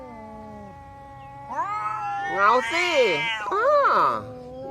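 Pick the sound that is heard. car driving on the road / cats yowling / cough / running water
cats yowling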